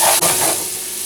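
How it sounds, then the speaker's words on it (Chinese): Scallions and garlic stir-fried in a hot wok for Mapo tofu, a loud close sizzle with a quick stirring scrape at the start, no voices. "葱蒜爆香"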